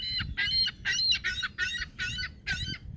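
Seagulls and pigeons being fed call out in a run of about six harsh, squawking cries, close and fairly loud, with rumbling background noise and no talk.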